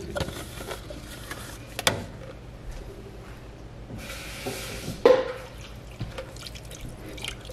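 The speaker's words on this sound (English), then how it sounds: "I just rinsed the blender" Water drips and trickles with a few clinks and knocks as a blender is rinsed at a sink, with a brief burst of running water midway.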